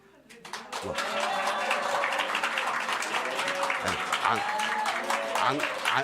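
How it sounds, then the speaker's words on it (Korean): A church congregation claps and calls out in welcome as a pastor comes up to preach, loud crowd applause rising after a quiet start and holding steady, mixed with cheering voices and shouts over the clapping. "할렐루야를 한번 박수 한번 해서 응원 한번 해줍시다"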